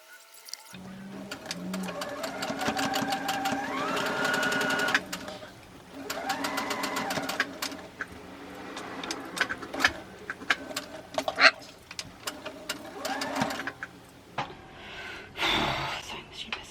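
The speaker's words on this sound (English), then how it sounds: "Sewing machine pisses me off." An over-tensioned sewing machine runs in loud bursts, its rapid mechanical stitching starting and stopping several times, with brief pauses between runs.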